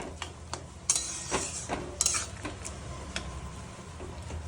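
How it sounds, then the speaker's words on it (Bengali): A spoon stirs potato and papaya curry with cumin powder and a pinch of sugar in a pan, giving soft scrapes and light metallic ticks over a quiet, steady low kitchen hum. "তারপর এটাকে ভালোভাবে একটু নেড়ে নিয়ে"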